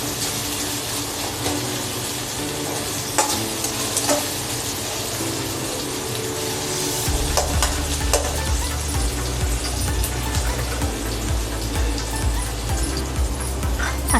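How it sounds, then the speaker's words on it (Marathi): Chopped tomatoes sizzle steadily in a hot pan as they are stirred for sandgya gravy, the frying hiss constant and close with occasional scraping of the spoon, no talking. "टोमॅटो हे पूर्ण मऊसूत होईपर्यंत, एकजीव होईपर्यंत आपण हे चालवणार आहोत"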